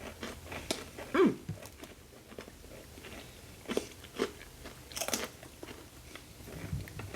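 Doritos Golden Sriracha chips crunch between the teeth in a few sharp bites, followed by softer chewing and small crackles. The sounds are close and fairly quiet, with no talking.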